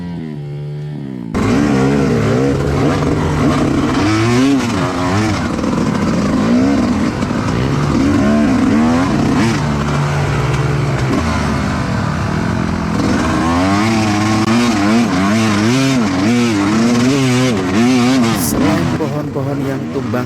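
Off-road motorcycles, including a tall Yamaha WZ, rev and strain up a rough forest trail with fallen trees and deep ruts, engines loud and close with constantly rising and falling revs throughout, voices talking over them.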